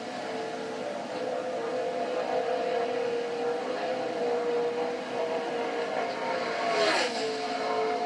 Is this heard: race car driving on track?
yes